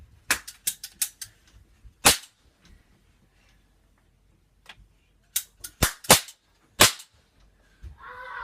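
Sharp, crackling gun pops in a mock gun battle, some fired in quick bursts of three or four and others as single shots, separated by quiet gaps.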